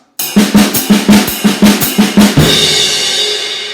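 A quick run of about ten evenly spaced triplet drum hits between snare and ride cymbal rolls into a ringing cymbal wash that fades out.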